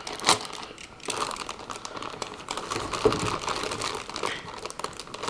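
A blade slices open the taped plastic bag around an Enermax Platimax 1000W power supply, giving close, crisp crinkling and rustling throughout, with a few sharper crunches.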